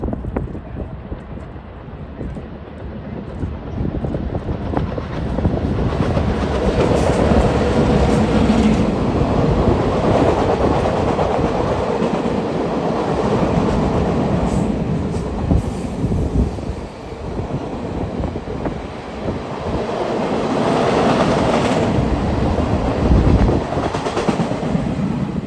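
Kansas City Southern Holiday Express passenger train rolling past at Livonia Park, a loud, sustained rumble with wheel clatter and rushing air that swells and eases over about twenty-five seconds, no voices.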